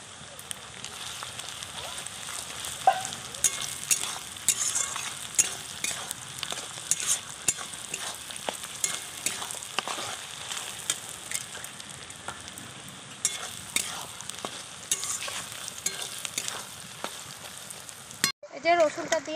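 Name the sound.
crushed garlic frying in oil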